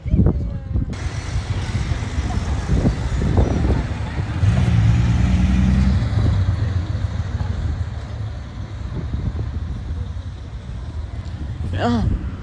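A Porsche 911 GT3 of the 991 generation drives past on a street in Deauville, a steady low engine and road roar filling the scene for the whole stretch, with people talking over it.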